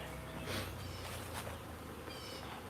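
A honeybee swarm buzzing as it is shaken off a branch on a farmstead: a dense, continuous hum of many bees, fairly faint, with a few swells of louder buzzing close by.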